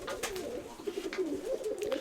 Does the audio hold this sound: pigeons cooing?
yes